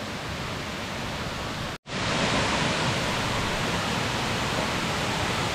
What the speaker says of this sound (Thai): น้ำตกชั้นที่หนึ่งครับ